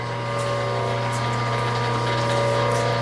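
A Wadkin RM planer's power feed mechanism runs at 30 feet, giving a steady mechanical whir with a constant low hum and a light ratcheting gear chatter, close and continuous with no talk.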